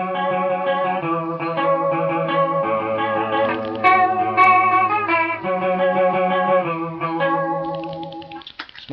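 An Electro-Harmonix Nano Clone chorus pedal, set at three o'clock, processes an electric guitar alongside a Small Stone and Big Muff Pi, giving shimmering, warbling chords and melodic lines that play steadily and loud throughout with no talking.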